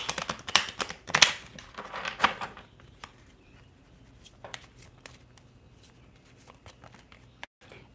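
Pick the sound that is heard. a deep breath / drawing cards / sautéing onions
drawing cards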